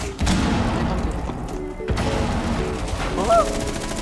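Bursts of video game gunfire mixed with dense explosive blasts and thuds, loud and close, layered with other game effects throughout.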